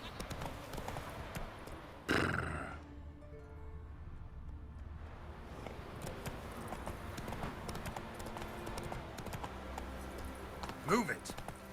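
Roach the horse trots along in a video game, steady clip-clop hoofbeats running throughout beneath a voice, with a sharp louder burst near the start and another toward the end.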